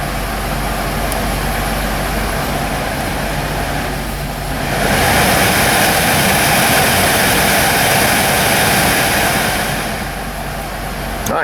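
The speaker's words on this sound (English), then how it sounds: "Pump just kicked back on." A/C compressor pump on a Pontiac Torrent / Chevrolet Equinox runs as a loud, steady mechanical drone, swelling noticeably partway through and holding at the higher level with no talking.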